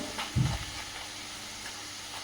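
Peanuts frying in oil in a home kitchen, a soft steady sizzle with a brief louder burst of stirring near the start and a clatter at the very end, quiet and close, no talking.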